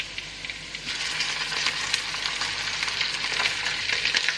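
Onions that have turned golden brown frying with a tablespoon of ginger garlic paste in a pan for butter chicken, giving a dense, continuous crackling sizzle that swells slightly and holds steady, close up, with no talking.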